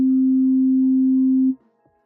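A steady synthesizer sine-like tone holds at a constant, full level for about one and a half seconds, then cuts off abruptly, leaving faint low residue.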